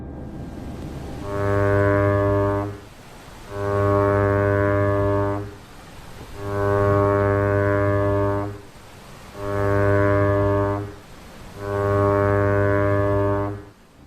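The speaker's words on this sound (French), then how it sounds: "Signifiez les 5 sons de danger à l'aide de la corne de brume pour l'avertir de la situation." Five long, deep ship foghorn blasts sound one after another as a danger signal at an even pace, each lasting about a second and a half with short gaps between.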